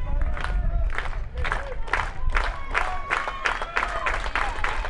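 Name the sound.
Humboldt baseball crowd cheering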